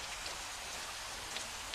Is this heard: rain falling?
yes